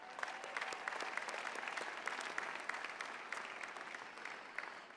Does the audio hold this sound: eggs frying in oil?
no